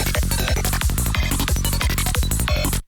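Hi-tech psytrance track with a replaced closed hi-hat and snare: fast, loud, dense pounding kick and bass with crisp hats and snare hits, continuous until an abrupt stop.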